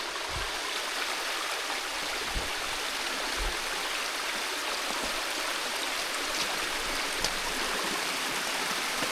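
A small waterfall rushes steadily, a dense continuous splash of falling water with a few brief low knocks, no voices.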